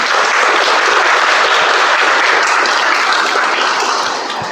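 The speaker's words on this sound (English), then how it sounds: "let's give a better round of applause to our grammarian" Audience at a Toastmasters club meeting gives a round of applause for the grammarian, a loud, continuous wash of many hands clapping that holds steady and eases off slightly at the close.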